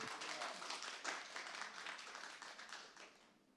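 Supporters at a town council meeting break into faint, scattered clapping that carries on steadily for a few seconds before tapering off.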